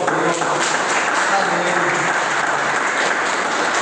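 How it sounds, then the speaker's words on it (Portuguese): A church congregation claps steadily and loudly for a few seconds, a dense, even wash of applause with no pause. "Dá uma salva de palmas"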